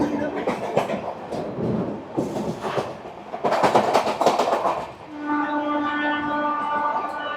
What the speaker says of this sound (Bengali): ফাইনালি ঠিক সঠিক সময় আমাদের ট্রেন ছেড়ে দিল শিয়ালদা স্টেশন থেকে বেনারসের উদ্দেশ্যে।